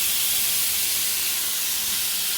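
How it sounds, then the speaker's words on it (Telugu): Mashed pumpkin sizzles in hot ghee in a pan for a halwa, giving a steady, even hiss of frying that holds through the whole stretch without a break and with no one talking. "ఇప్పుడు మనం ఈ నెయ్యిలో ముందుగానే స్మాష్ చేసి పెట్టుకున్న గుమ్మడికాయ వేసుకోండి"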